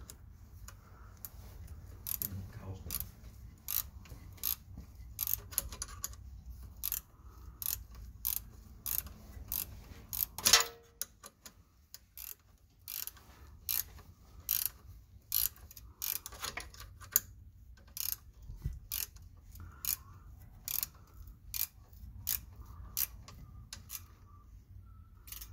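A ratchet snugs shift bushing bolts on a Ford Festiva, giving close, crisp clicking in rapid, steady bursts with short pauses and a faint mechanical background.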